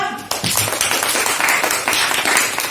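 Students in a classroom give group 2 a round of applause: a dense, steady patter of many hands clapping close by for nearly three seconds, with a few voices mixed in.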